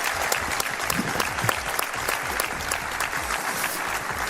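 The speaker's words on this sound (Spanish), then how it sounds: "un aplauso para vosotros" A studio audience claps for departing guests in a steady, lively round of applause, with sharp individual claps close by over the dense clapping of the crowd.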